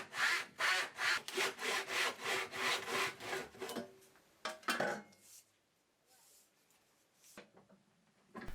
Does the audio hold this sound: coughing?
no